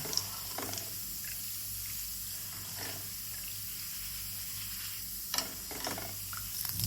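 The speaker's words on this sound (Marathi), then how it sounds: "तेलात तळून घ्यायचे." Thin roasted poha fries in hot oil for a Diwali chivda, giving a soft, steady sizzling hiss with a few light scraping and stirring clicks, fairly quiet and with no voices.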